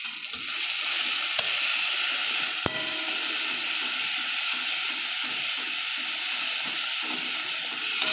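Garlic and onion paste frying in a pan sizzles in a steady, close hiss, with a couple of sharp utensil clicks against the pan.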